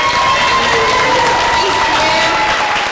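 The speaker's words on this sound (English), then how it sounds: "Come on, big applause to Waylon." Crowd applause and cheering at an outdoor Hungry Ghost Festival event in LA Chinatown, a steady dense roar of clapping and voices filling the whole short stretch.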